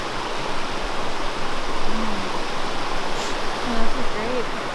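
A river rushes steadily past, a loud broadband wash of flowing water with a faint voice briefly audible beneath it.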